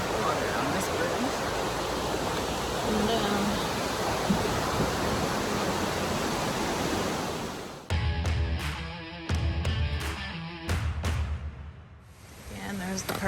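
Water rushing over a trail bridge by a Forest Service Road parking area on the Appalachian Trail, a loud, steady broadband wash that suddenly cuts to quieter, broken stretches marked by bumps and clicks near the end.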